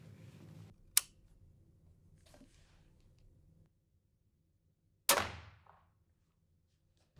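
A crossbow fires at a target outdoors: a sharp crack early on, then a louder snapping release with a brief decaying thrum a few seconds later, against a quiet background.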